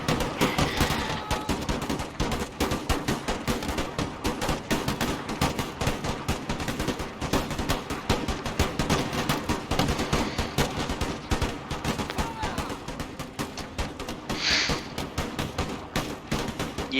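Puckle guns fire in Empire Total War, a dense, continuous rattle of rapid shots layered over one another that stays steady and loud throughout, with no voices.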